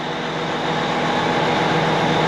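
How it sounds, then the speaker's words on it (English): A steady, loud engine drone with dense broadband rumble that holds unchanged throughout, with no voices. "That's the sound of an engine."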